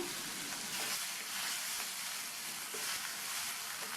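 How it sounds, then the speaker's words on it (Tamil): Tomatoes and tamarind sautéing in hot oil for a chutney, a steady close sizzle of frying with faint stirring, continuous and even with no voices. "இப்போ இந்த தக்காளி புளி ரெண்டுமே நல்லா வதங்கி வரட்டும்."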